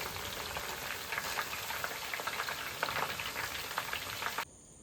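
Dense, continuous crackling sizzle of tapioca chips frying in hot oil, close and steady, cutting off abruptly near the end.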